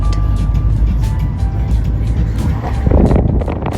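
Car engine hum and road rumble while driving a mountain road at high altitude through Arunachal's Sela Pass toward Tawang, a steady broadband drone with a brief louder surge near the end, no talking.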